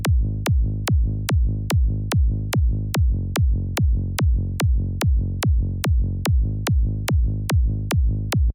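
Synthesized progressive psytrance bass line, a steady stream of evenly spaced, punchy low pulses with a sharp click on each hit, loud and continuous, no voices.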